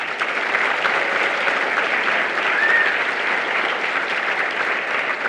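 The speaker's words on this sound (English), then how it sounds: "let's have one more round of applause for all of our lightning talkers." A conference audience at a library technology gathering gives sustained, steady applause for a group of lightning talk speakers, dense and loud throughout with no voices on top.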